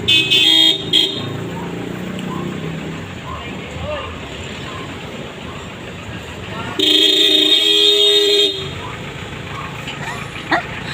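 Busy Quezon City street traffic rumbles steadily while car horns toot in short bursts and one longer sustained honk. A dog barks briefly and voices chatter in the background.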